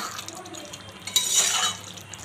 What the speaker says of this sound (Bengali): তো মাথাগুলো আমি এর সঙ্গে মিশিয়ে দেব।